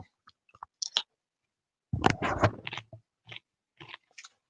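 Close-miked chewing of food, with scattered wet smacks and crunchy bites and a denser burst of mastication in the middle, set against near silence.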